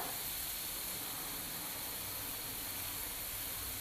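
Boondi batter for motichoor laddu streams from a piping bag into hot oil, giving a steady, even sizzling hiss that stays constant and close throughout, with no voices.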